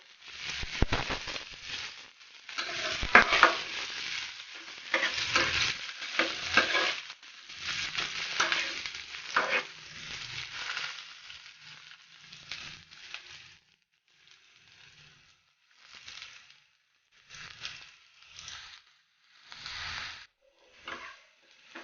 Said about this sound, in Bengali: পেঁয়াজগুলা ভেজে ওঠা পর্যন্ত অপেক্ষা করব।